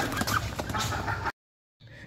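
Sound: chickens clucking

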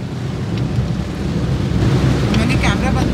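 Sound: heavy rain pouring

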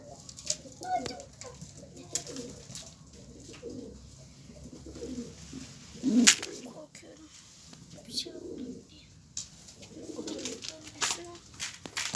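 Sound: pigeons cooing

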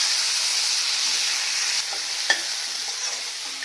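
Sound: onion and tomato frying in a pan for misal pav

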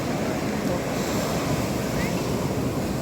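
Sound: sea waves on the beach at Puri

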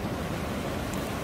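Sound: strong sea waves on Jumunjin beach

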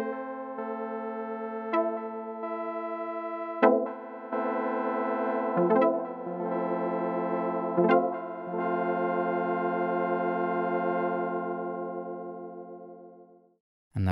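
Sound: Korg DW-8000 synth patch with repeating EG delay

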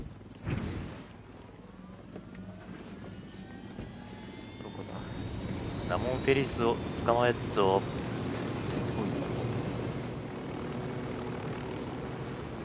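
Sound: helicopter in video game Ghost Recon Wildlands

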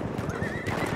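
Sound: horse neighing in video game Battlefield 1

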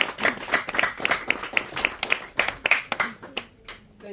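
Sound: applause at engagement ceremony

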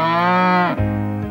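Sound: cow mooing, read-along sound effect

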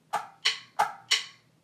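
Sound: drum stick clicks on the offbeat

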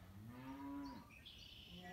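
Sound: cow mooing outdoors

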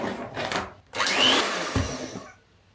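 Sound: electric mixer whipping sour cream with sugar

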